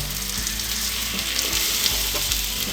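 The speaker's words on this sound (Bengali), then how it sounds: "ভেজে রাখা চিকেনগুলোকে দিয়ে দিচ্ছি" Pre-fried chicken pieces tossed into a pan of onions sizzle steadily and loudly over medium gas flame, a continuous close frying hiss with faint stirring scrapes and no voices.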